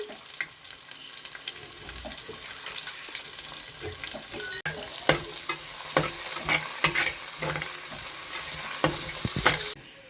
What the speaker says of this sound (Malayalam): ഇനി നമുക്ക് കുറച്ച് ബ്രൗൺ കളർ ആവുന്നിടം വരെ ഇളക്കി കൊടുക്കാം